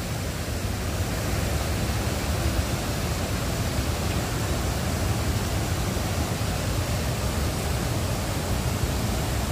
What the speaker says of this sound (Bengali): এই যে দেখালাম ওখান থেকে এই জলটা এসে এই যে এদিক থেকে পড়ছে।